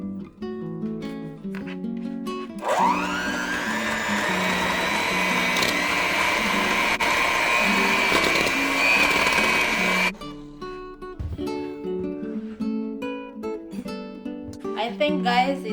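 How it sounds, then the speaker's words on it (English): A hand mixer on low speed mashes bananas for banana bread, a steady whirring drone running about seven seconds before cutting off, with music playing underneath throughout. "we're gonna mash these bananas with a hand mixer on low speed"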